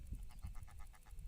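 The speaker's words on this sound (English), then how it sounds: "chatty goose." A chatty goose among a mixed flock of geese outdoors, giving a rapid series of soft, evenly spaced honking calls, fairly faint and distant over low background noise.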